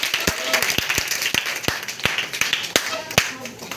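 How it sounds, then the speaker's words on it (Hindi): Schoolchildren in a government school classroom clap their hands in a series of sharp, uneven claps, loud and close, with a teacher's voice and other chatter heard alongside. "चलो इसके लिए ताली बजाओ।"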